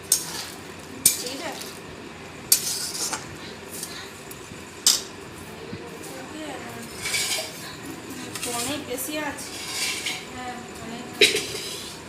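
Mutton pieces being stirred and fried for kosha in a metal pan, with repeated sharp clinks and scrapes of a spoon against the pan over a steady low sizzle.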